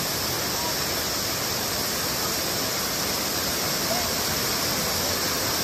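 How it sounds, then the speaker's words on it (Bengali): A waterfall at Koh Rong, Cambodia, heard from right beneath it, roars as a loud, steady, broadband wash that never lets up, with no voices. "আমরা এখন একদম ওয়াটারফলের নিচে চলে এসেছি।"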